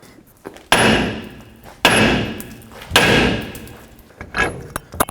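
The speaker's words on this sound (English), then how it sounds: "I'm going to hammer right here on the knuckle" Hammer blows land on a steel steering knuckle of a 2007-14 Chevy Silverado to free the lower ball joint stud: three hard metallic strikes about a second apart, each with a ringing decay, then a lighter fourth hit, close and loud.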